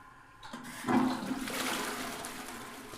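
A public bathroom toilet flushes in the horror video game Silent Hill: Downpour, a click then a rushing swirl of water that stays steady and close, with no talking over it.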